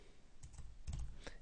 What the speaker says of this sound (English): we will now set the options by typing